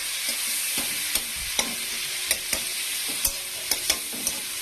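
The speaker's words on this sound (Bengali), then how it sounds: "এবার দিলাম টমেটো কুচি। টমেটো কুচি দিয়ে নাড়তে থাকবো।" Chopped tomato frying in a pan with five-spice, dried chili and bay leaf, a steady close sizzle punctuated by sharp scraping clicks of a spoon stirring against the pan.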